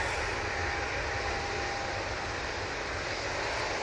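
EasyJet Airbus A320neo starting its takeoff roll at Manchester Airport, a steady broadband engine roar with a faint thin whine, holding constant and fairly close throughout.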